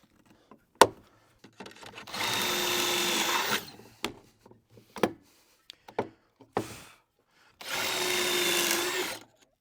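A drill drives pocket hole screws into a wooden storage bench in two sustained whirring runs, close and fairly loud. Sharp knocks and clatter from handling the wood and the tool fall between the runs.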